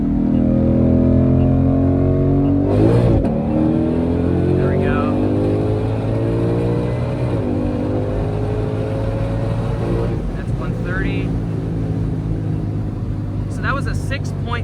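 A stock Ford Mustang Shelby GT500 accelerates hard in a second-gear pull from about 60 mph, its engine note rising loud and steady from inside the car, with a brief shift-like break and voices talking over it.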